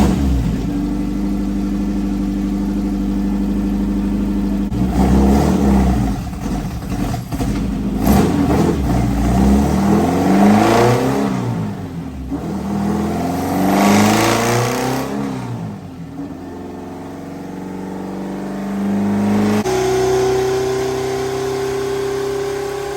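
A Toyota AE86 with a 4AGE engine revving on a dyno, a loud close engine climbing and falling through several sharp rev sweeps, then settling into a steadier high drone with no talk.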